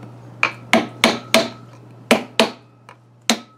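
A wooden hammer handle taps a part back onto a Honda Rancher ATV crankshaft during an engine rebuild, giving about nine sharp, close knocks at an uneven pace over a steady low hum.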